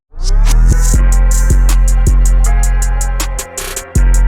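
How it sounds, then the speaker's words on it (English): A reversed beat intro run through the Gross Beat vinyl-off preset in FL Studio: steady punchy hits and bright ticking over sustained tones, loud and close, with a brief stutter and dip near the end before one last hit. "And so the Grossbeat version of it sounds something like this."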